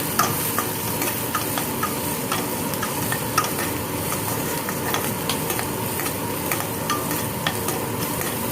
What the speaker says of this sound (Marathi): आता थोडासा पाच मिनटं आपल्याला बारीक गॅसवरती त्याला परतून घ्यायचा